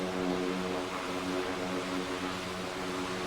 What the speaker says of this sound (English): The plane accelerates down the runway.